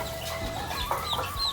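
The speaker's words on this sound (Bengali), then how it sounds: "এটা হচ্ছে মুরগির ফার্মের ভিতরে চলে আসলাম" Chickens clucking softly inside a poultry farm shed, scattered short calls from several birds over a steady low room hum, with no talk.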